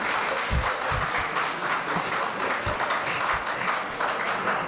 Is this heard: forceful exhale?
no